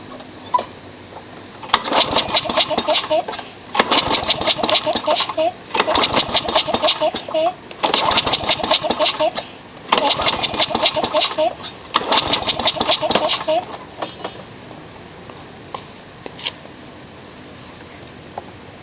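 Repeated bursts of a Troy-Bilt small engine being cranked over during a compression test, several rapid chugging runs of about two seconds each separated by short pauses, close and loud, then settling to quiet.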